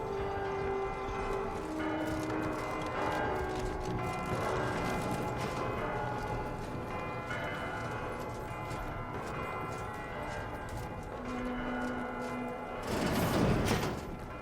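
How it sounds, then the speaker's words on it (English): Sustained ringing tones in The Outer Worlds 2, like bells, layered over a dense game soundscape, with a brighter, louder burst near the end. "hopefully the bell sounds go away for a little bit"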